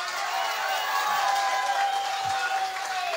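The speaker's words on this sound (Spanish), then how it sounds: "Fuerte el aplauso a mi público" A live audience at a Ka'i ha Paku stage show breaks into steady, dense applause that fills the whole stretch at an even, fairly close loudness, with no clear voices rising above the clapping.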